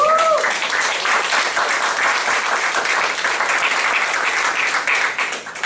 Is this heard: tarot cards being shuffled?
no